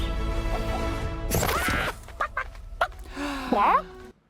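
Chicken clucking from the Fable remake game, a few short clucks and squawks after a loud crash, with game music and background talk around them.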